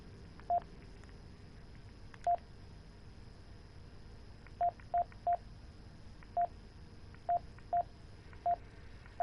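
Phone dialing in Need for Speed 2015: about a dozen short keypad tones beep at irregular intervals over a faint steady hum, quiet and close, with no voices.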